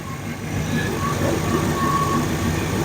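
A 1968 Chevelle engine idling nearby with a low, even rumble that holds steady throughout, with no talking over it.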